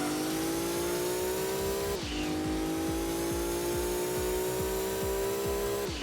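A modified boxer-four car in Gran Turismo 2 roars at high revs during an endurance race, its loud, buzzy exhaust note holding steady with a brief dip from a gear change early on, then climbing again.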